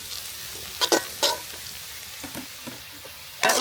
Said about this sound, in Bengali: আমি এখন দিয়ে দিচ্ছি গোটা গরম মশলা। এগুলো দিয়ে আমি মাছ ভুনা করব।